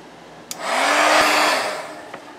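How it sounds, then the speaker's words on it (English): A hair dryer blows on a glued doily for a junk journal, switching on with a click, rising to a steady whooshing roar for over a second, then winding down before another click. "I'm going to dry it again."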